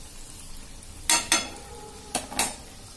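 Chocolate donuts fry in oil until golden on both sides, with a faint steady hiss broken by four short, sharp bursts of sizzle or spatula contact in two close pairs.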